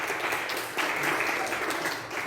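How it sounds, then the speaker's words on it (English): Applause from an audience at a youth leadership program speech event, a dense, steady wash of clapping that swells partway through and carries on without pause. "Let us give him a big round of applause."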